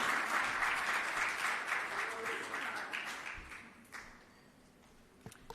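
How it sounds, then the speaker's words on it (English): Audience at a government launch ceremony for medicinal cannabis permit programmes breaks into hearty applause that gradually fades over several seconds, ending in a few scattered claps, with some voices mixed in. "Please give a round of applause to all the stakeholders"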